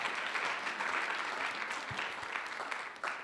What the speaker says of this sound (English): A hand of applause for you.